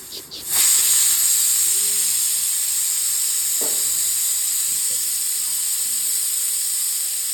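A pressure cooker boiling sweet potatoes lets out a loud, sustained steam hiss after a short sputtering start, continuing steadily with faint background voices and small household noises.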